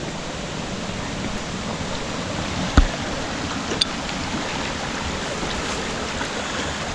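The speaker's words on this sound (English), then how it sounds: "This water comes out of the Five Ponds Wilderness and funnels down through here." Steady, broadband rush of water at High Falls near Wanakena, New York, close by, continuous throughout with a brief knock partway through.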